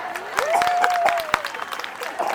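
An audience claps for Bihu dancers at an outdoor Nakari Bihu event in North Lakhimpur: steady, moderately loud applause with sharp individual claps, and a sustained tonal sound running above it.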